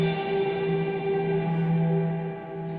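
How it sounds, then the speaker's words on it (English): Guitar played through heavy reverb with the mix and decay cranked up, a sustained chord ringing in a wash of lingering echo that slowly fades, heard alone. "what I'm going to do is I'm going to add a lot of reverb to this"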